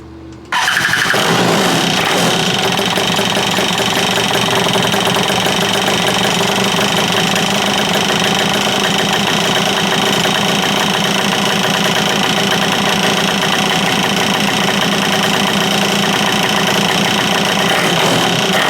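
A stand-up jet ski engine starts and runs rough, settling into a loud, continuous, uneven knocking drone that stays close and steady to the end.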